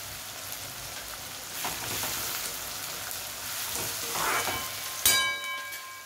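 Onion and green beans for veg pulao sizzle and crackle in a hot pan, a soft continuous frying hiss with occasional spatula scrapes and a sharp metallic clink near the end.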